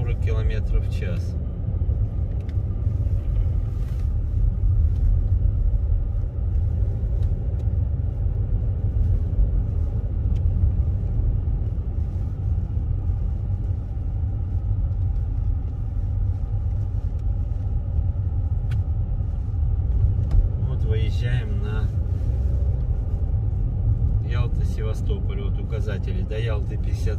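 A car drives at about 40 km/h along a snowy road in Crimea, giving a steady low rumble of engine and tyres heard from inside. A voice talks over it, with a few brief clicks and knocks near the end.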